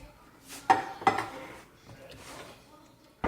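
A spoon stirring milk into fish chowder in a metal pot, with a couple of sharp clinks against the side and soft scraping, close and fairly quiet.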